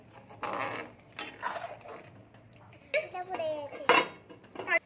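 A spoon stirring matar paneer in a metal pan gives repeated scraping and clinking strokes in irregular bursts, fairly close and moderately loud.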